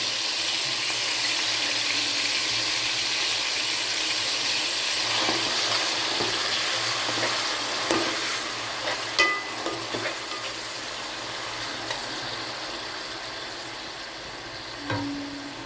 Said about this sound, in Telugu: ఇప్పుడు ఇది ఆయిల్ వేడైందండి. అందులోకి ముందుగా మనం నీరు పెట్టుకున్న ఉల్లిపాయలు, పచ్చిమిరపకాయలు పేస్ట్ వేసుకోవాలండి.